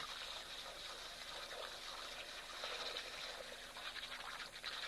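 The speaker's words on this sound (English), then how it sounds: "You can just hear that elephant slowly but surely slipping up that water." An elephant slowly sucks up water at a waterhole, giving a steady, soft wet trickling and slurping sound heard at a distance, faint and continuous, with no voices.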